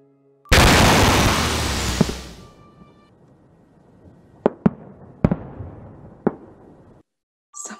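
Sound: fireworks exploding at night in a film trailer

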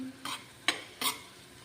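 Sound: homemade masala paste frying with onions

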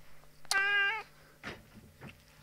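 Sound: cat meowing

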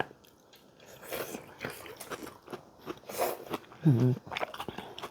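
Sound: eating banana stem in Thai rice noodle curry

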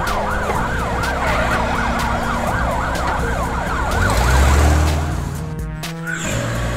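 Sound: ambulance siren

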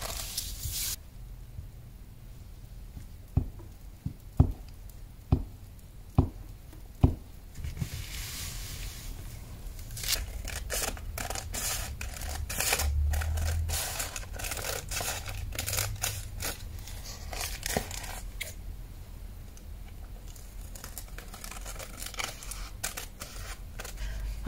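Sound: trimming paper around the edge

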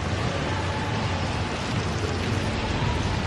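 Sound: rain

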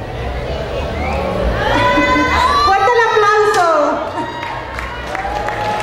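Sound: audience applause for pageant contestants

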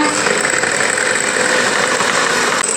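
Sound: beater whisking sugar and sunflower oil for cake batter

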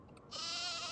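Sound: sheep bleating in video game Nancy Drew: The Haunting of Castle Malloy

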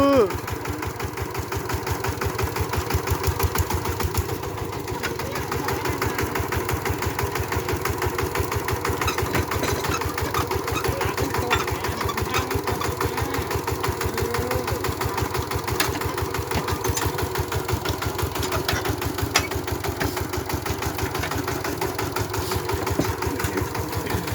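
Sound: engine of an e-taek farm vehicle idling

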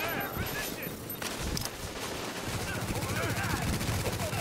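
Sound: gunfire in video game Rogue Chronicles

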